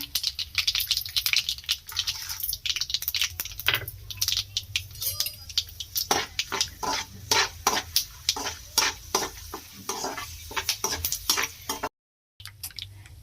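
Curry leaves and chana dal fry in hot oil with mustard seeds for an Indian potato palya, making rapid crackling pops and sizzles over a low hiss, close and fairly loud, with a brief drop to silence near the end.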